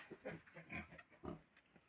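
Newborn piglets on a farm grunting softly, a quick run of short, close, faint squeaky grunts in irregular bursts with no talking.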